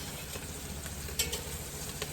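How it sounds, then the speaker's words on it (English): Chicken sizzles steadily in a hot pan, a close crackling hiss with a few sharper pops and a light scrape of stirring. "the chicken is frying"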